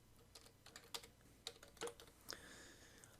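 Keys clack on a computer keyboard in uneven bursts, a few sharper strikes standing out like presses of the enter key, close and fairly quiet with no talking.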